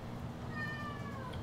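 A pet cat gives a single drawn-out meow, clear and fairly close, with a rising then falling tone over a quiet room hum.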